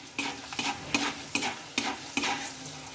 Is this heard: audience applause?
no